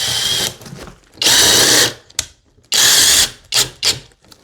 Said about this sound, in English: take your screws, hold this back into place, go into the drywall like this